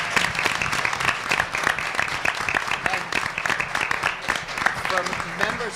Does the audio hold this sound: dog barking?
no